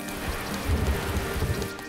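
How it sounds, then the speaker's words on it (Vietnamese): Steady rain falls on a surface outdoors, a dense even patter with soft low rumbles underneath, moderately loud and continuous with no voices. "Ôi không, mưa rồi."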